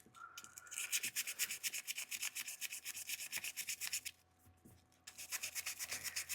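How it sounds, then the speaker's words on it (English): Sandpaper works a Kaywoodie pipe's mouthpiece stem in quick back-and-forth strokes, a steady rhythmic scratchy rasp that pauses briefly midway and then resumes, close and moderately loud. "I'm going to do a little sanding on this mouthpiece"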